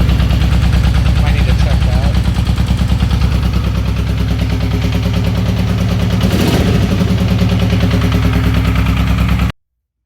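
1996 Triumph Thunderbird 900 motorcycle engine idling after fuel-system adjustment, a loud close rapid pulsing chug running steadily throughout, with a brief spoken phrase over it before the sound cuts off abruptly near the end.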